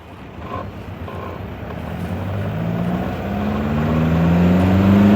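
A 1962 Triumph TR4 with a four-cylinder engine drives along, its engine note rising steadily as it speeds up, with wind rush across the microphone and no talking.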